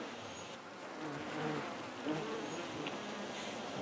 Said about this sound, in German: riesiger Bienenschwarm auf dem ganzen Feld zu hören ist